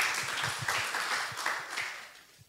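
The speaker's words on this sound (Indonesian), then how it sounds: "Yang siap kasih tepuk tangan dong untuk Tuhan." Congregation clapping during a Sunday church worship service, a steady wash of many hands with some rhythmic emphasis, moderately loud and slowly fading toward the end.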